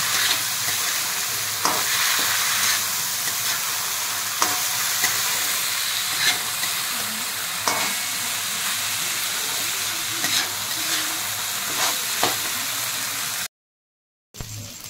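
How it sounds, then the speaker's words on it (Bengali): Ingredients for moong dal pulao frying in a pan, a loud, dense, continuous hiss with occasional soft stirring knocks, heard up close, cutting out briefly near the end. "এবার আমি একে একটু ভেজে নেব"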